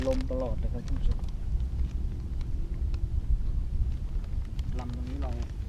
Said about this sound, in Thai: มีลมตลอดเลยครับท่านผู้ชม